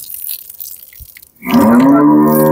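A dairy cow lets out a single long, loud moo that starts partway through, following a quieter stretch of low background noise.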